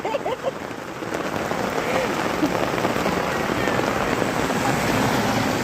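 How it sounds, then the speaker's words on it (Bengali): Heavy rain pours down steadily, a dense close hiss of drops striking surfaces that builds slightly and holds throughout, with a faint voice briefly audible near the start. "জোরে বৃষ্টি এসে গেছে।"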